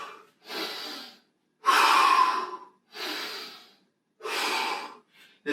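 Heavy, deliberate workout breathing during a bodyweight flow sequence: four loud, close breath bursts, each about a second long, separated by short silences, ending with a brief fifth breath.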